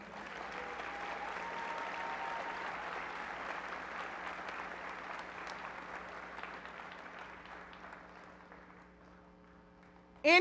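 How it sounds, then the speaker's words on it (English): Sustained applause from an audience at a KCKCC graduation ceremony, honoring the graduates; dense steady clapping fills the hall for about ten seconds, fading slightly near the end before a sudden loud burst. "Let's give them a hand clap."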